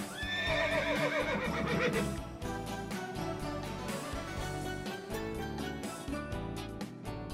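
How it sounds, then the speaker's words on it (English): A horse neighs loudly with a long, shaky whinny at the start, set against a busy music bed that continues throughout. "Horse."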